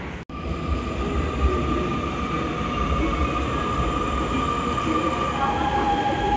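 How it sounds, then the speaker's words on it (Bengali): Steady, loud rumble of a metro train in motion in Nanjing, with continuous wheel and motor drone throughout and a faint high whine, no voices heard. "দ্বিতীয় মেট্রো চেঞ্জ করাই ডাউনটাউনে পৌঁছায় যাবো।"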